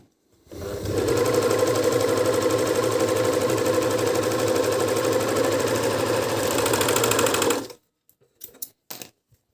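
A Dragonfly 854 overlock machine sews in a single sustained run of fast, buzzing mechanical chatter, loud and close, then stops abruptly, leaving a few faint clicks and handling sounds.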